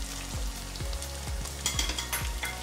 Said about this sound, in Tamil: இதையும் சேர்த்து நல்லா வதக்கு